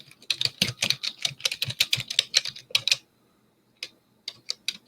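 Rapid computer keyboard typing, a dense run of close, crisp key clicks for about three seconds, then a pause and a few scattered single keystrokes toward the end.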